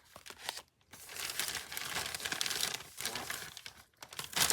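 A shiny mailer inside an envelope is handled up close, giving bursts of crinkling and crumpling plastic with brief pauses between them, fairly quiet and with no talking.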